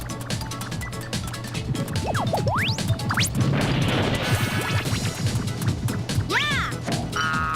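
A frozen waterfall shatters in a video game with a loud, sustained crash of breaking ice, glassy cracking and tinkling debris, followed by watery splashing and a few rising chirps.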